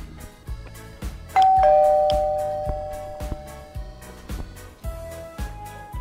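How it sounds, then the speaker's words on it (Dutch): A doorbell at the front door of a house in the village of Moddergat rings twice with a clear two-tone ding-dong chime, the second ring a few seconds after the first, over a soft, steady low thumping beat. "Nou, ik zal even ombellen en dan zien we het wel."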